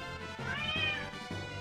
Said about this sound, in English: is that my cat making noise?